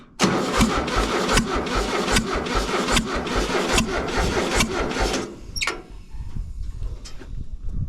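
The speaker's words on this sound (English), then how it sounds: "We're just gonna see if this thing will turn over, not start, just turn over a little bit." An antique starter turns over a freshly swapped 1835cc engine with a run of about nine loud, rhythmic cranking strokes. It stops after roughly five seconds, leaving a few faint clicks in a quiet space.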